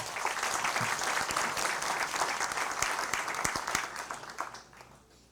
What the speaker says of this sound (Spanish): Les pido fuertes palmas, por favor, para ella.